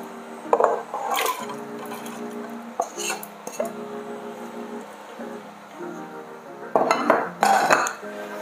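Potatoes tipped into a cooking pot for a French potato soup, with close clattering and knocking of pot and utensils in short bursts and scraping between them, no voice over it.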